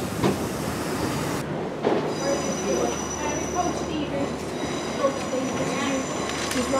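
Inside the Enterprise passenger train to Dublin in Ireland, a rumbling rolling noise fills the space with occasional squeals and rattles, and a voice can be heard talking.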